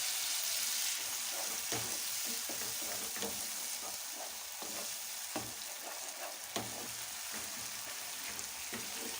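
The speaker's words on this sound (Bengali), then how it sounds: "মশলা ধোয়া জলটা দিয়ে কষিয়ে নিচ্ছি" Spice paste for fish curry cooking down in a pan with a splash of water, a loud continuous sizzle with intermittent spoon scrapes and taps while it is stirred; no talking.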